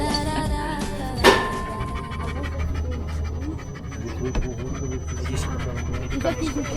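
A tired dog pants steadily and close by in quick, even breaths, heard over a low continuous background rumble, with a brief sharp knock near the start.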